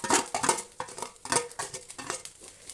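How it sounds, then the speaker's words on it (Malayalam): Coconut, dried chilli, garlic, curry leaves and cumin roasting in a pan for padavalanga thoran, heard as close, irregular scraping and clinking of a spoon against the pan with light rattling, and no voices. "അതെല്ലാം കൂടി ഇട്ടിട്ട് നമുക്ക് ഒന്നും കൂടി അത് വറുത്തെടുക്കാം"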